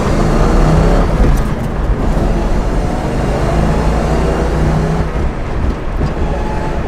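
A Ford Mustang V8 drift car at a drift event runs loud and steady, its engine roaring continuously with dense low rumble and some revving throughout, no voices over it.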